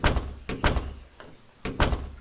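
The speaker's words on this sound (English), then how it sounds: "God, the doors are so loud." Loud doors in the horror video game The Crooked Man: several sharp, close door thunks and slams come in quick pairs, separated by short quiet gaps, with no talking.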